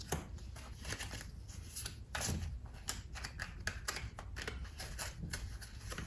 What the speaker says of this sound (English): This deck's a little hard to shuffle, so I just kind of let whatever flies out to fly out.